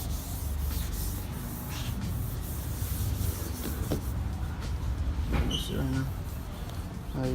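Car headlight on a Mitsubishi VR4 being wet sanded with 600 grit sandpaper, a continuous close rasping rub with rhythmic strokes and a few small clicks, while people talk nearby.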